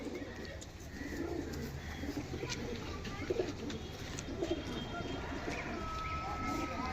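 Pigeons coo softly in a continuous, low murmur amid faint background noise, fairly distant and quiet throughout.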